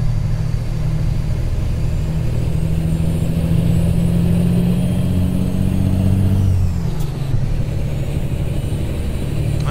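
A Freightliner Classic XL truck's diesel engine in American Truck Simulator, a loud, steady low drone that holds its pitch, then drops and shifts downward partway through, with a brief hiss as the load changes.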